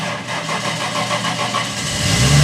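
A freshly built turbo or nitrous project car engine fires up for its first start, a loud steady mechanical roar that swells toward the end as it catches and revs.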